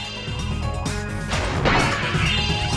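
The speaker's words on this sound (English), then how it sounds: "A vase noise." A vase smashing in the video game Spyro: Year of the Dragon, a sharp crash followed by a second louder shattering burst of glassy fragments, near and prominent.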